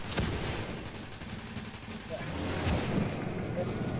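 Gunfire from an enemy sniper in the game Dragon's Nest cracks in sharp bursts over a dense, noisy battle backdrop, with voices talking alongside.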